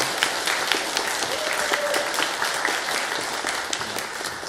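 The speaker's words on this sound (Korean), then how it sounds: "함께 박수하겠습니다." A church congregation applauds a choir steadily, a dense wash of many hands clapping at once, loud and sustained throughout.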